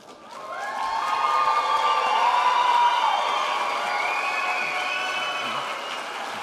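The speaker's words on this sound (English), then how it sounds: "And now I want the support system to stand and give them a thunderous round of applause." A graduation ceremony crowd on its feet gives a loud round of applause, with whoops and drawn-out cheering calls riding over the clapping before it slowly tapers.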